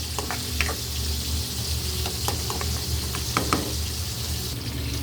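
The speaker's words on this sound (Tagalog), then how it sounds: "Ito naman ang ating kamatis. Kailangan natin siyang gisahin mabuti." Tomatoes sauté in a pan with a steady, close sizzle and scattered crackles and pops, broken by occasional stirring scrapes.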